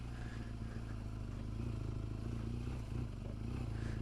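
A BMW GS 1200 motorcycle ridden off-road along a frozen green lane in cold weather, its engine a steady low throb close by with faint clattering, with no talk heard.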